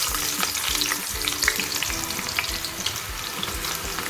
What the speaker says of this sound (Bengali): চিকেনের জন্য পেঁয়াজটা দিয়ে দিলাম।